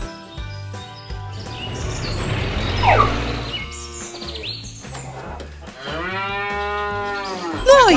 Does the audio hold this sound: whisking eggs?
no